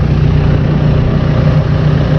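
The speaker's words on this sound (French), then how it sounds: "c'est mon beau tracteur." A farm tractor working in an almond harvest in Australia idles with a loud, steady low engine drone heard up close from the cab, unbroken and without talk.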